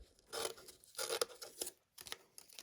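Scissors snipping pearl embellishments off a sheet for card making; several close, crisp cuts in small clusters with short pauses, fairly quiet.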